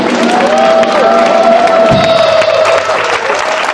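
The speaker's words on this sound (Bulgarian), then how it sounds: "Аплодисменти за новата ни кандидат-асистентка Дебора!" A studio audience in a pop-folk television show claps and cheers for a new assistant, a dense, loud wash of applause with whoops and sustained tonal music running underneath throughout.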